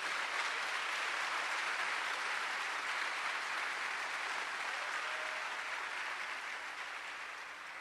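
A church congregation applauds in a dense, steady wash of clapping that stays even for several seconds and then slowly fades a little, heard from a distance and fairly soft.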